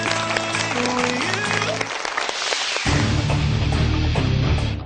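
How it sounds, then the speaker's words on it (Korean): Applause at a high-school quiz competition for an eliminated girls' school team. It swells steadily over music and broadcast sound, with a voice speaking under it. "아쉽게 탈락한 제주 중앙여고에게 위로의 박수 부탁드립니다"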